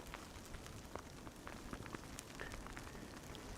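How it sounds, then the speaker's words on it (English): Light drizzle falls outdoors at Amsterdam Schiphol airport near the Polderbaan runway, a faint, steady patter of raindrops with soft scattered ticks over a constant hiss. "it's still drizzly here"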